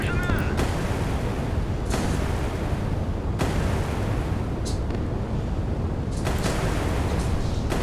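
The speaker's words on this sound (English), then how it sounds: "seeing gunfire, naval gunfire over long ranges" Long-range naval gunfire booms in Sea Power. Repeated heavy reports recur every second or so over a dense, constant roar, with speech mixed in.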